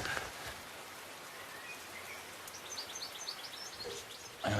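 Steady rain falls over a garden, a soft continuous hiss with faint bird chirps appearing in the second half and a louder patter near the end.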